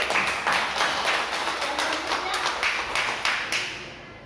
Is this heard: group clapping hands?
yes